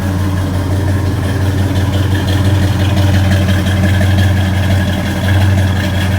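A classic car with dual exhaust and a small camshaft idles steadily at close range, a deep, rumbling exhaust note with a lumpy, even throb and no voices.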